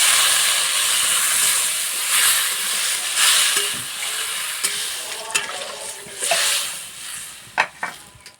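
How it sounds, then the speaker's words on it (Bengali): Water poured into frying ground spices in a pan sets off a loud, steady sizzle and hiss that fades over several seconds, broken by a few sharp crackles and spatters near the end. "এবার জল দিয়ে দেবো।"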